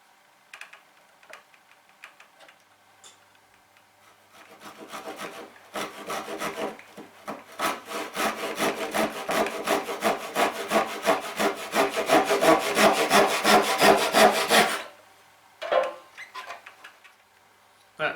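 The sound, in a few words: hand saw cutting wood along a marked line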